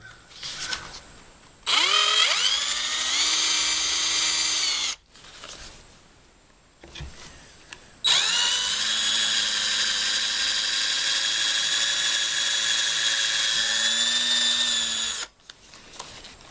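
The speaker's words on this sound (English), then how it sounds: "Drill your pilot hole." A power drill bores a pilot hole into scrap wood for a shelf bracket, running in two loud, sustained bursts with whining pitch that rises as it spins up, separated by a short pause, with no talking.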